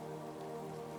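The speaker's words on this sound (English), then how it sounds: "The rain outside continues to fall in gentle waves" Rain falls outside at night, a steady, even patter that stays constant throughout at moderate, soft loudness with no voices.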